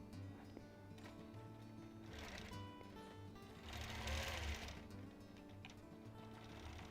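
Sewing machine running steadily for free motion quilting, a continuous mechanical hum and rapid stitching whir that swells briefly in the middle, close and alone without talk.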